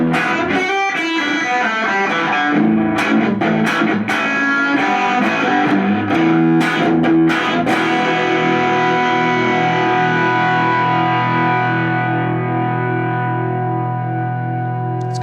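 An electric guitar played through stacked Bad Cat Siamese and Burmese overdrive pedals into a Fender Deluxe Reverb amp gives loud, distorted chords struck in quick succession, then a final chord sustained and slowly fading.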